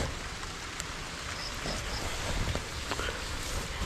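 Steady rain patters across a surface, a soft continuous hiss with scattered drop taps, moderately faint and with no voices.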